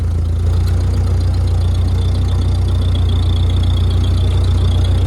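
An old Ford 8N tractor engine idles steadily with a deep, rhythmic low chug, close and constant, with no voices.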